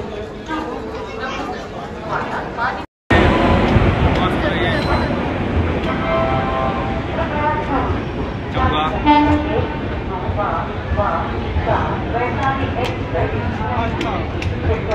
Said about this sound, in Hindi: गाइस, बहुत ही बैड एक्सपीरियंस है हमारा रेलवे स्टेशन का।